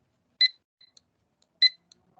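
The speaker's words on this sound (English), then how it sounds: "the first step is that we have to register the barcode scanner. So you'll hear beep here." A barcode scanner gives two short, sharp electronic beeps about a second apart in a quiet room, each followed by faint small clicks.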